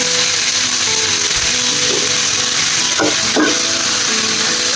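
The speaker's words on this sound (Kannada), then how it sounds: "ಇಲ್ಲ ಸಖತ್ತಾಗಿ ಸಿಡಿಯುತ್ತೆ ಇದು ಸ್ವಲ್ಪ ಮಟ್ಟಿಗೆ ಫ್ರೈ ಆಗಿ" Chopped tomatoes fry and splutter loudly in a hot pan, a steady broadband sizzle with a couple of sharper crackling bursts near the end, close and without any talk.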